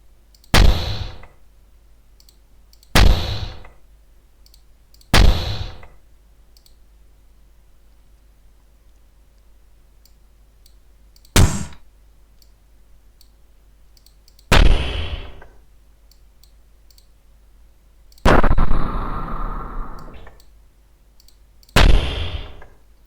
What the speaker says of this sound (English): a grenade sound.